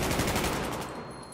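Rapid automatic gunfire from the war video game Battlefield 1 rattles in a dense burst that tapers off over about a second, loud at first and then fading.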